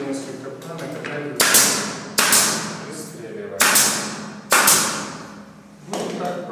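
Parquet planks are knocked into place during floor laying, a series of sharp, loud taps, about five strong blows spaced roughly a second apart, each ringing briefly, with lighter knocks between them.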